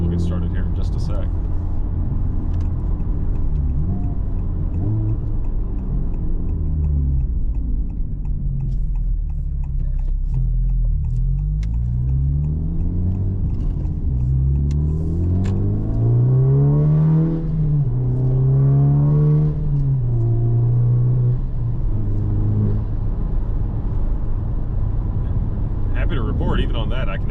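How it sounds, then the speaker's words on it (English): A Honda Civic Type R FL5 turbo with an Eventuri intake drones from inside the cabin, its engine note rising and falling through several gear pulls before easing back to a lower rumble. "Even on that, I can actually hear the turbo blow off"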